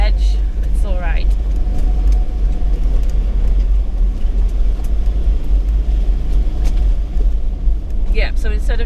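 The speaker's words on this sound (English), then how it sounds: "instead of just driving on the road, I thought we'd try some tracks" A car rumbles steadily along a dirt bush track in a state forest, its engine droning low and close throughout. A person talks briefly at the start and again near the end.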